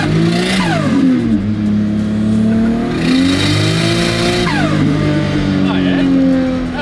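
A Ford AU ute with an RB20 engine and a fresh tune revs hard and rises and falls in pitch through the rev range, loud and close throughout, with tire spin heard under the engine.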